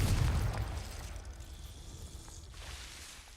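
A Confringo blasting spell in Hogwarts Legacy sets off a single loud booming explosion at the start, then a rumbling decay with faint game ambience afterward.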